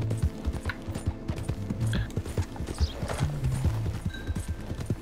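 Horse hooves clip-clop in a steady, close rhythm in a video game, with occasional mechanical clicks and a faint high tone in the background.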